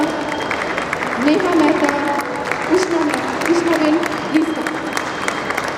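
A crowd at a live International Women's Day event in a mall claps steadily in the background while a presenter calls names over a microphone.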